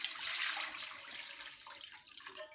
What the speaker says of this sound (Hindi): 3 गिलास हम इसमें पानी डालेंगे